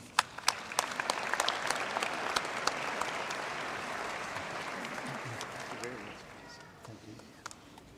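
Sustained applause from a University of Pretoria graduation ceremony audience honouring an honorary degree recipient, dense clapping with sharp individual claps standing out, fading gradually over the last couple of seconds.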